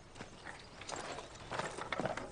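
Horse hooves clip-clop in a quiet, faint series of uneven knocks at an old country house, a few scattered strikes growing slightly busier toward the end.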